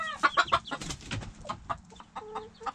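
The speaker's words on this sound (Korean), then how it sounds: "캔디가 당하고 있는 소리를 들은 제리는 걱정스런 마음에 소리를 지르고 있다." Chickens in a coop cluck and squawk loudly in a rapid burst, one rooster calling out in alarm while a hen is pecked, the agitated calls then trailing into scattered clucks.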